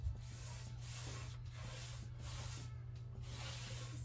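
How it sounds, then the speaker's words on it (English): A sander lightly working the corners of an old TV armoire, a soft, steady rubbing hiss over a low motor hum, with faint rhythmic strokes and no talking. "I'm gonna go in with a sander and just lightly sand on the corners."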